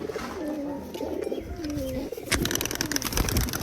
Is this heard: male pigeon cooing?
yes